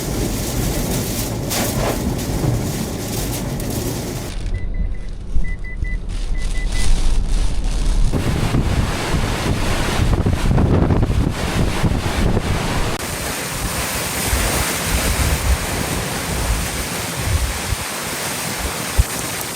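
Hurricane Helene's storm surge and wind batter the Florida coast at Cedar Key, with a continuous loud roar of crashing waves and heavy wind buffeting the microphone, shifting in intensity throughout without talk.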